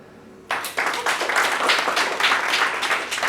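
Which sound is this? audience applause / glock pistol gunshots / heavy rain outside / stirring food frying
audience applause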